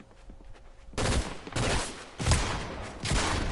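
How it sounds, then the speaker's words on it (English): Shotgun fire in the Fortnite video game comes as four or five loud, heavy blasts about half a second apart, each a broad burst following a quieter opening. "This shotgun's supposed to hit for 100 damage."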